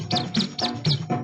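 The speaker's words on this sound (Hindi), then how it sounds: "छुन छुन करती आई चिड़िया," Sparrow chirping in a children's radio segment: four quick, bright chirp bursts in an even rhythm, fairly close and clear, with no talking over them.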